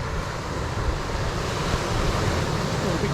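Water rushes steadily at a fishing and hiking spot, giving a broad, constant roar with some wind-like noise and no clear voices.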